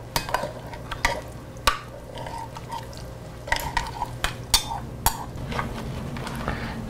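Parmesan cheese and parsley being stirred together in a bowl, a spoon scraping and tapping with several sharp clinks over a low background hum, no talking.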